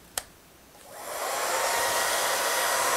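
A T3 Afar travel-size hair dryer plugged in at a desk gives a small click, then its fan spins up into a steady, loud, airy whoosh that runs unbroken to the end, with no talking.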